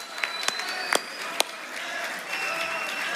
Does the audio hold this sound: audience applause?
yes